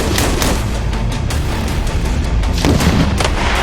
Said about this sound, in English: 20 millimeter cannon.